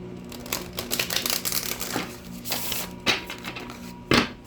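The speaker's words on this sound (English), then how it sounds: "Let me get you some good shuffles in" Tarot cards riffle and slap together in quick bursts, a brisk shuffle ending in a sharp tap as the deck is squared.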